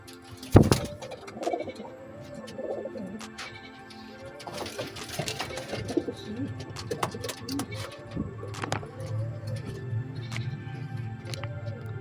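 Pigeons cooing close by in repeated soft, rolling calls, with scattered rustles, wing flaps and a few sharp clicks in the background.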